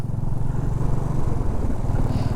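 A motorcycle engine runs steadily at close range, a low, continuous rumble with no speech over it.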